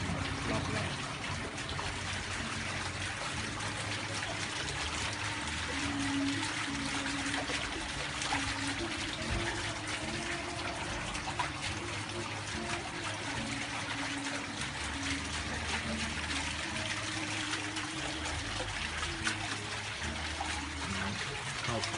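Samsung 9 kg coin-operated front-loading washing machine during its spin cycle: a steady, unbroken wash of water and churning hum that holds at one level throughout, with no distinct breaks.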